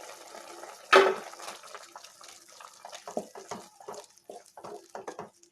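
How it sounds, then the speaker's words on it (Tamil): Water poured into a pan of half-cooked mushroom masala with ground spice paste, a sudden loud splash followed by a few seconds of trickling and sloshing liquid, close by and with no talking. "தேவையான அளவு தண்ணி ஊற்றிக்கலாம்."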